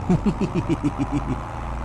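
A tractor engine heard from inside the cab in Farming Simulator 22, a steady mid-pitched drone with a rhythmic pulsing rumble, under a voice talking throughout.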